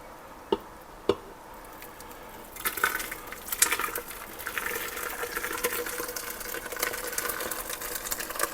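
Soup pours into an Instant Pot after two sharp knocks, a soft sloshing, gurgling stream that runs steadily and fairly close for several seconds.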